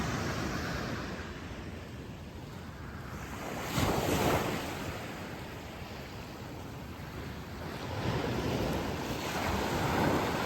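Ocean surf rolls onto a quiet beach strewn with seaweed, a steady wash of breaking waves with louder crashes swelling around four seconds and again near the end, under constant wind noise and no voices.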